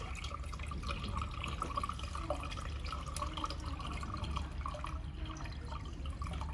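Water pours into the water tank of a handheld fiber laser welding machine, a continuous splashing, trickling fill with a low steady rumble underneath and no speech.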